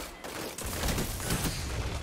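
Hand cannon gunfire in the first-person shooter Destiny 2, a Waking Vigil weapon, firing repeatedly in a busy, dense mix of loud game combat sounds with overlapping shots and effects throughout.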